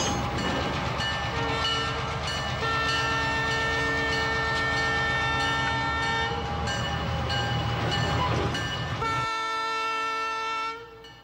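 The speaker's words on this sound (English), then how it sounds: "a diesel engine is coupled to the lead flat car and off they go" A diesel circus train engine coupled to a lead flat car rumbles steadily with a sustained horn blast, engine noise loud and close, then the sound thins out abruptly near the end.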